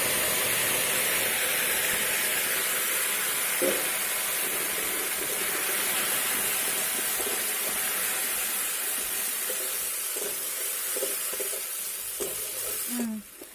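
Ground spice filling for prawn-stuffed pointed gourd korma poured into hot oil with cumin seeds in a wok, giving a loud steady sizzle and frying hiss throughout, with soft stirring clatter and a few faint scrapes near the end.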